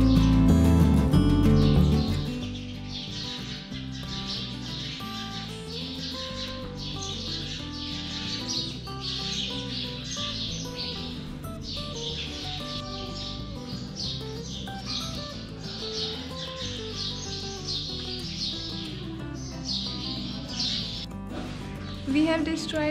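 Birds chirping inside the Maan Mandir palace at Gwalior Fort, a dense, continuous chatter of high tweets echoing through the stone halls after a louder bump at the start.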